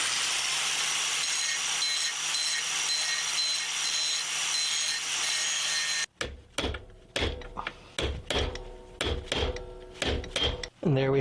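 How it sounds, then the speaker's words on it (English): A grinder cuts off the head of a pin on a factory chain, a steady loud high-pitched whine for about six seconds, then breaks into a string of sharp metallic knocks and clanks. "These factory chains, of course, they didn't make them really to remove, so you got to go ahead, grind off the head, and then we'll just punch it out."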